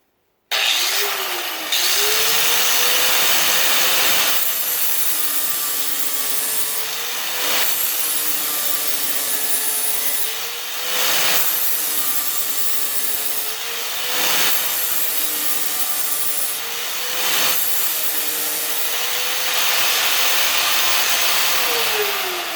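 Lawn mower blade being sharpened with a flap disc on an angle grinder, a loud continuous grinding whine that rises and dips slightly in pitch as the disc is drawn along the edge, with no talking.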